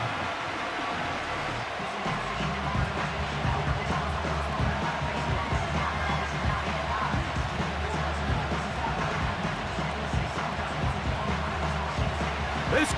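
Dense stadium crowd roar from Madden 25, a video game matchup of the Baltimore Ravens against the Cleveland Browns, holding a steady loud wash throughout as a 3rd down approaches, with faint commentary woven underneath.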